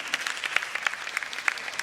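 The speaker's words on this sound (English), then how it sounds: "please, I request all of you to give a very big round of applause to all of them." Steady applause from a panel discussion audience, dense clapping with a few sharper claps standing out, continuous for a couple of seconds with no voices.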